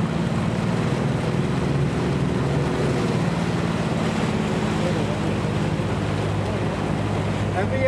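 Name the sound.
Saltstraumen tidal current water rushing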